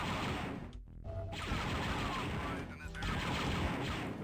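Turret gunfire in the Star Wars: Dark Forces video game: a loud, dense barrage of rapid shots that keeps going for several seconds with a brief lull, while a voice talks now and then.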